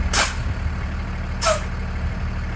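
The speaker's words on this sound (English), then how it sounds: "We're going to deplete pressure in the tanks, front and rear, to about 100 PSI." A truck's air brake system vents air twice in short hissing bursts as tank pressure is pumped down, over a steady idling engine rumble, with no talking.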